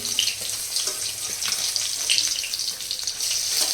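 Parshe fish sizzles and spits in hot oil in a pan, a steady hissing crackle close by with small popping bursts throughout, no speech.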